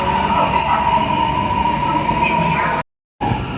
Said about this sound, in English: Here comes the train for the metro.